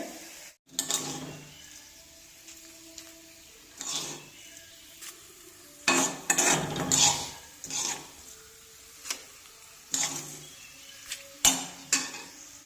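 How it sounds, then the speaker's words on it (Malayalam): Sautéed ingredients scraped and stirred into mashed curd, with repeated spoon-on-pot clinks and short scraping bursts in an uneven rhythm, close and fairly loud between quieter pauses. "ഞാനിത് ഉടച്ചു വെച്ചേക്കുന്ന തൈരിലോട്ട് ചേർത്ത് കൊടുക്കുകയാണ്"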